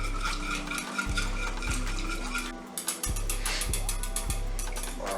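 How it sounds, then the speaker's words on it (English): A whisk stirs Cajun seasoning into a white wine sauce, giving a quick, close clatter of metal wires against the pan over a steady low hum with periodic clicks. "I'm gonna take my whisk and stir that all in."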